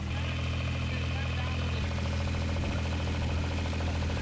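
A low, steady boat engine drone runs continuously on the Mekong in southern Laos, a motor chugging evenly at close range with no other sounds standing out.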